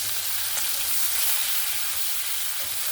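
Onions frying in hot oil with five-spice seeds for a catfish and eggplant curry make a loud, even, close sizzle throughout, with no voices.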